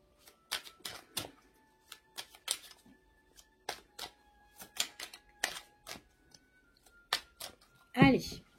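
Tarot cards being cut and shuffled, giving a run of quick, sharp riffling snaps and taps at an irregular rhythm, close and fairly faint, with a short voiced sound near the end.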